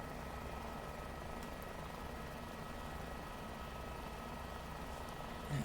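A helicopter in Microsoft Flight Simulator 2024 hums with a steady, even rotor and engine drone throughout, moderately loud, with no voices.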